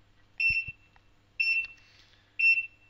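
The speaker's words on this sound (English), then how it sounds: "The player gear will beep and you'll see the countdown on your screen." Beeps from laser tag player gear at the start of a game, three evenly spaced electronic tones about a second apart, each short and clear against near silence.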